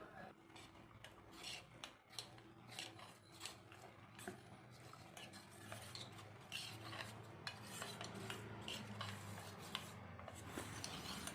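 A spoon stirs custard powder mixed into boiled and cooled milk for a jackfruit custard fruit salad, producing soft, repeated scraping and clinking strokes against a bowl, quiet and close, with no talking.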